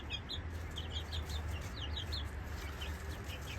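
Soft, repeated clucks and chirpy calls from young chickens come from nearby over a low background hum, quiet and fairly steady.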